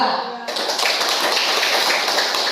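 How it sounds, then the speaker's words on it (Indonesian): Applause from a classroom audience for a presenting student group in a teacher training session, dense steady clapping that starts after a brief moment of talk and fills the clip at close range. "kita kasih aplaus untuk kelompok 2"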